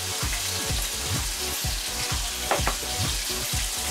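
Cod fillet sizzling and crackling in a frying pan, a steady close hiss with pops and occasional stirring clatter, no voices.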